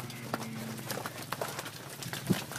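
Dairy cows walk off a concrete holding pad at a dairy farm, their hooves clopping in an uneven rhythm, moderately close, over a steady low background hum.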